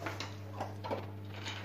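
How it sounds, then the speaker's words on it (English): An extractor fan in a small apartment bathroom runs with a faint, steady low hum, joined by a few soft clicks and light handling noises. "That noise you can hear is just the fan."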